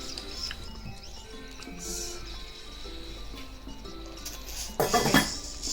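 A metal lid is set onto a pot of potatoes simmering over medium-low heat in a home Indian kitchen; one short, bright clatter lands near the end amid quiet cooking background.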